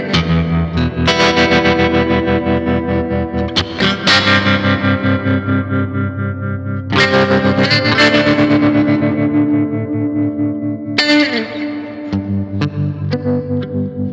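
An electric guitar plays strummed chords through a tremolo pedal and a Native Audio Ghost Ridge reverb pedal, pulsing tremolo and a wash of reverb, loud and sustained, with notes ringing out between strikes.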